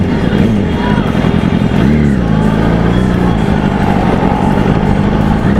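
Yamaha R1 motorcycle with a Yoshimura exhaust revving loudly close by, its engine note rising and falling in a steady roar with a voice partly heard underneath.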